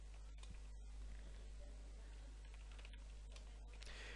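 Keys clatter on a computer keyboard as code is typed into a script file, a steady run of light, close clicks over a constant low electrical hum.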